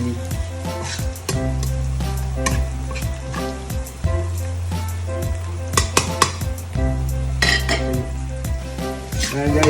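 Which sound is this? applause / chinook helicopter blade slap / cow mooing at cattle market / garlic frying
garlic frying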